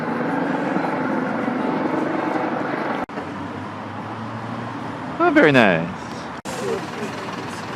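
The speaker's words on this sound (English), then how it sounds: "Helicopter, anyone?" A helicopter flies over a city street in Newcastle, heard as a low, continuous drone beneath people talking, with a brief louder whooshing swell partway through.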